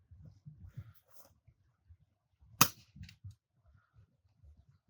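A single sharp shot from an unusual gun fired while hunting outdoors, a loud broadband crack standing out briefly amid low rustling and faint background movement.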